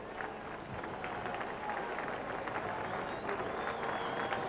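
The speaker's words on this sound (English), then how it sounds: "A great round of applause for Ollie Pondulyak" A football stadium crowd applauds a substituted player during a 1993/94 South Melbourne versus Melbourne Knights semi-final, a dense, distant wash of clapping under a commentator's voice.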